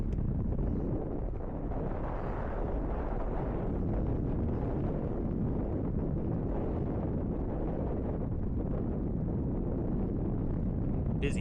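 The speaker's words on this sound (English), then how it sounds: "A bit windy up here" Strong wind on a hilltop roars and buffets steadily against the microphone, a low rumbling gust that never lets up.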